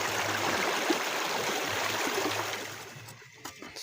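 Canal water pours into a farm field for irrigation with a steady, loud rushing and gurgling close by, thinning out toward the end.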